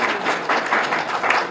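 Crowd applause for a guest being welcomed at a gathering about instructors' honorarium, a dense steady wash of many hands clapping at close range, holding evenly throughout with no voices standing out.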